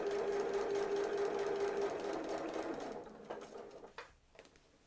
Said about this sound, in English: I'm going to do a little bit of back stitching at the very beginning, and other than that I'm just going to stitch up that line.